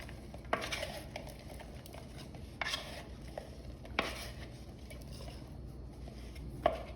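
Seasoned vegetables being stirred in a pan before roasting, with a few sharp utensil clinks and scrapes standing out over a low steady background, no talking.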